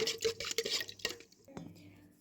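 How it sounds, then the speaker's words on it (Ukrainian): A spoon stirs yeast into a warm milk mixture in a bowl, giving quick clinking taps and swishes that fade after about a second, with a voice speaking briefly over it. "Розмішуємо, щоб дріжджі повністю розчинилися у молочній суміші."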